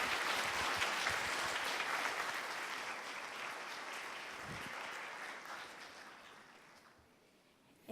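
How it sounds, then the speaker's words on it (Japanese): Audience applauding at the end of a lecture on monsters, mascots and the future of animation, a dense steady clapping that slowly thins and fades over eight seconds. "改めまして大きな拍手をお願いいたします。"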